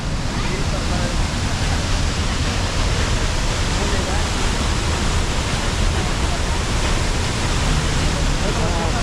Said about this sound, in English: This is the La Paz waterfall, but not the La Paz waterfall garden.